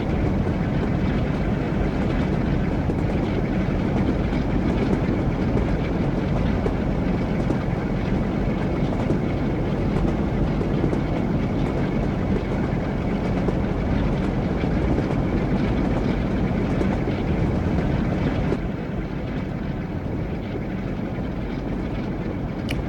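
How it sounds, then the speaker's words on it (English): Wheels of a simulated train on the North Trans-Pennine line in Train Sim World drone and clatter in a loud, continuous rolling roar that eases slightly near the end, with no voices. "I'm mesmerised by the sound of the clickety clack."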